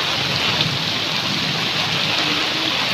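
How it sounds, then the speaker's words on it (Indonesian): Heavy rain pouring steadily during a flood in the city of Semarang, a dense, continuous roar of downpour on surfaces, loud and close, with no talking. "sementara hujan masih deras ya di sini ya"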